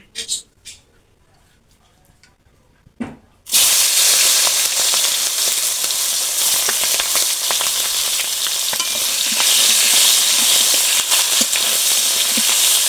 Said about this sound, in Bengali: আমি দুইবারে ভেজে নেব